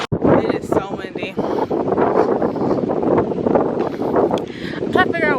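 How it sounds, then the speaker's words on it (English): Strong wind buffets the microphone on Coki Beach in St. Thomas, a constant loud rumbling rush, while someone talks over it. "It is so windy."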